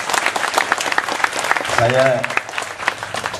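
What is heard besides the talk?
audience applause for Gus Yusuf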